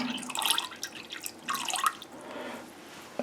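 Liquid Flora Micro micronutrient poured into a container of water, with close trickling and dripping in a couple of short pours followed by quieter splashes.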